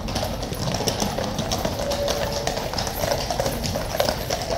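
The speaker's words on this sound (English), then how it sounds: "Look, the horses are super enthusiastic to see us." Hooves of King's Guard horses clip-clop on pavement in a steady, close, continuous patter against the outdoor bustle of a morning street, with no talk over them.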